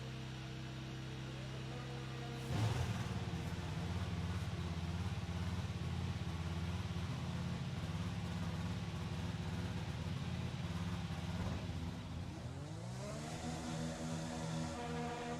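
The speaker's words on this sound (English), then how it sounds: "Engine fired, we're set." A Formula 1 race car engine in the F1 video game during an Italian Grand Prix esports race, a steady droning whine that starts abruptly, holds level, then rises in pitch as revs climb near the end; faint and fairly distant.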